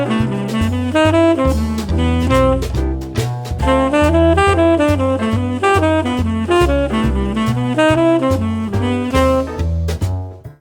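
Jazz line over a ii-V-I, moving outside with G whole tone triads before resolving, played as a continuous run of quick melodic notes over sustained accompaniment, loud and alone without talk.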